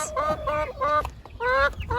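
Turkeys cluck and yelp on a half-acre homestead, a series of close, sharp, tonal calls in quick bursts with short gaps between them.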